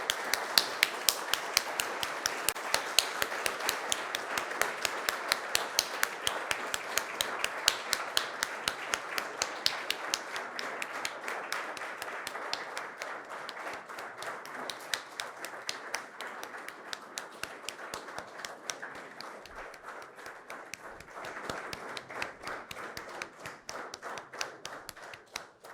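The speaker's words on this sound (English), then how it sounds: "Let's give him a round of ovation." An audience welcoming the President of Kenya keeps up steady, rhythmic clapping for nearly half a minute, sounding somewhat distant and even-paced with no talk over it.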